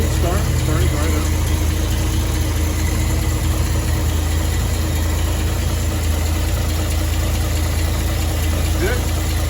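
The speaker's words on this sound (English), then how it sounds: "Choke is on. Cold start. Starting right up." A Dodge Power Wagon engine with a Weber two-barrel carburetor idles steadily just after a choked cold start, a loud, close, continuous low rumble with a faint whine over it and a voice briefly talking.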